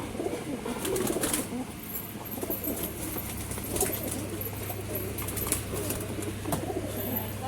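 Racing pigeons coo in a loft, soft repeated calls layered over a steady low hum, with faint background voices and occasional wing flutters.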